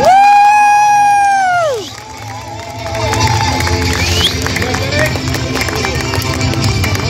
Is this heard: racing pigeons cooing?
no